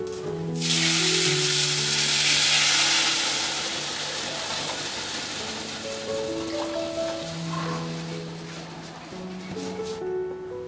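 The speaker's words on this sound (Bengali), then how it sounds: "হাফ টিস্পুন কালো সর্ষে আর একটা শুকনো লঙ্কা ফোড়ন দেব। ফোড়নটা একটু ভেজে নেব।" Black mustard seeds and a dry red chili tempering in hot oil, a loud burst of sizzling and crackling at the start that settles into a steady, fainter fry under background music.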